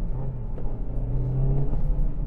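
A car engine runs steadily at idle or low revs, a deep continuous rumble with a faint whir, heard from inside one of three compact cars on a group test: a new Honda Civic, Toyota Corolla or Kia Ceed.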